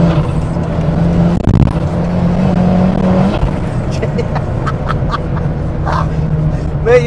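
A 560bhp Ford Sierra Cosworth accelerates with its wheels spinning, a loud, close engine drone with a rising tonal whine under the rumble, while someone talks over it partway through.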